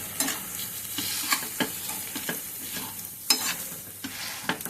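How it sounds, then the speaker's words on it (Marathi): Peanut besan being sautéed and stirred in a pan, with a spoon scraping and clicking against the metal over a steady soft sizzle, the strokes repeating irregularly and close by. "आता याला छान परतून घ्यायचं,"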